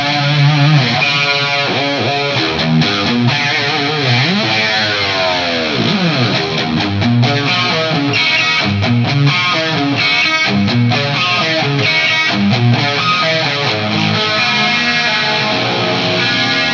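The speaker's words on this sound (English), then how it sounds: "I've added some chorus and some plate reverb" A distorted electric guitar in an early-1980s brown sound plays a loud, sustained riff with a shimmering chorus and spacious plate reverb, including a swooping bend partway through.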